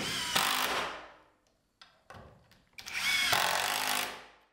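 A power drill drives screws into a board on an interior wall of a 20x30 workshop, two loud whirring bursts at the start and end separated by short clicks and handling knocks, with no talk.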